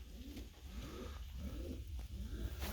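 Pigeons coo softly at a breeding nest, repeated low rolling calls in a steady rhythm over a faint background hum, close but quiet, with no talking.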